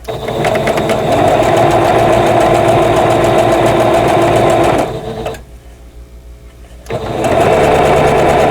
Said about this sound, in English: I'm sewing on a new table and my machine sounds a lot different